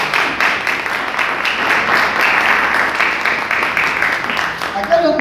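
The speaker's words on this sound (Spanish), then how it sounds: "Un aplauso para Abel." Audience clapping for a speaker at a book talk, a steady round of applause from a modest crowd, moderately loud and continuous, with a voice beginning to speak just as it fades at the end.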